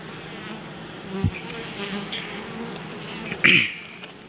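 Asian honey bees swarm around their hive, a continuous mid-pitched buzzing drone with a couple of brief louder knocks and a faint passing voice.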